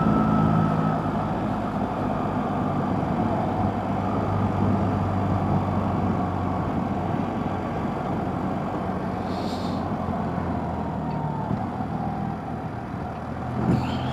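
A BMW Boxer engine motorcycle, a 1300R, drones steadily while riding on a road, a continuous loud rumble with wind noise that holds at an even level throughout, with no voices.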